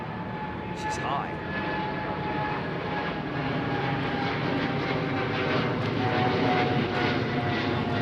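A Qatar Airways Boeing 777 freighter takes off from London Heathrow runway 09R, its jet engines producing a steady, powerful roar that builds slightly over the clip, with someone talking over it.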